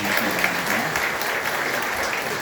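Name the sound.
congregation applauding in church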